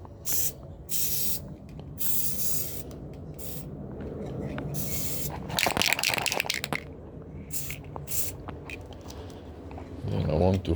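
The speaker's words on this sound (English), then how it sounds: "give it a little gorilla spray." Gorilla spray adhesive hissing from a can in several short close bursts, with a person talking between the sprays.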